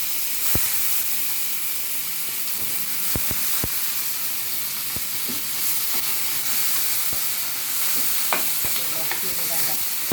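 Curry leaves and garlic frying in hot oil for a Telugu moong dal charu, a steady close sizzle and hiss with scattered sharp pops and crackles spread through the whole stretch.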